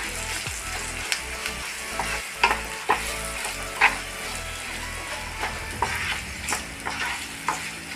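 Green chilli masala stirred and fried in a pan over a low flame: a steady close sizzle with repeated scraping strokes of the spoon against the pan, no voices.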